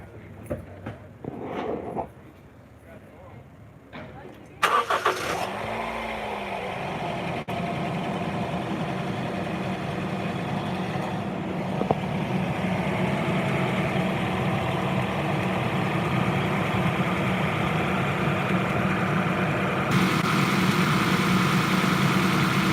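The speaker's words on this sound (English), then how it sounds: "I'll go ahead and start the car real quick." A crashed Honda CR-V starts with a sudden crank and catch, then settles into a steady, loud idle that runs on without pause, preceded by faint handling noises.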